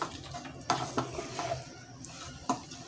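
Chopped tomato sizzles as it fries in a chicken masala, a steady crackling hiss broken by a few sharp stirring scrapes, fairly faint and close.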